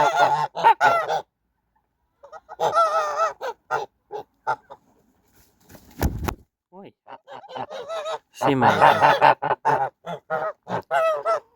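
Young Kholmogory and Tula fighting geese, two females and a gander, honk repeatedly at close range in a farmyard, the calls mixing with people talking.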